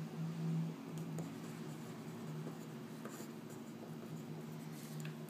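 A pen scratches out math on paper, quiet and close, with short strokes and brief pauses over a faint steady hum.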